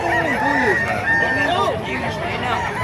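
A ten-month-old Talisay gamefowl rooster crows loudly and close by, the long drawn-out call repeating its rising and falling contour and dominating a busy background of other birds.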